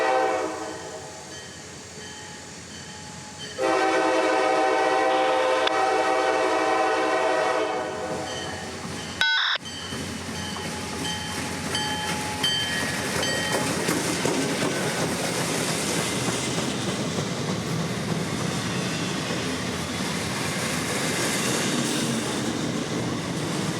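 A freight train led by an SD40-2 locomotive passes, first with a loud horn blast, then a steady rolling rumble and rattle of cars going by close and continuous.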